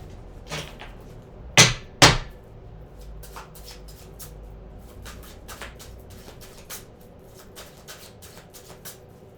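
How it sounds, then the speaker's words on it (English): Tarot cards being shuffled by hand, with two sharp riffling bursts close together early on, then a series of soft, quick card flicks and light taps continuing at a steady pace in a quiet room. "Let's do 2 more shuffles."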